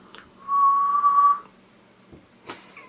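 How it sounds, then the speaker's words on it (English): A person whistles into a cup of tea, producing one steady, clear whistle note lasting under a second, followed by a couple of faint clinks and a brief breathy sound, close and quiet with no speech. "I just whistled into my tea."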